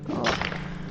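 A pickaxe striking ore in the video game Forge, one short crunchy whack with a brief ringing tail, loud and up front with no talking.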